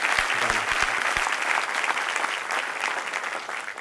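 An audience at a university foundation day celebration breaks into steady, dense applause that holds at an even level throughout, with a few low thumps at the start.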